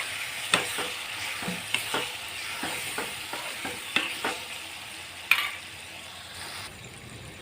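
Ground coriander-cumin masala sautés in a pan for a Gujarati baingan oro, giving a steady close sizzle with scattered spoon scrapes and stirring clicks, no talking.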